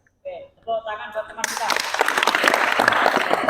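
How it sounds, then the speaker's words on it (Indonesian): A classroom of vocational high school students bursting into applause for a classmate, a dense rattle of many hands clapping that swells and holds steady after a teacher's brief spoken prompt. "tepuk tangan buat teman kita"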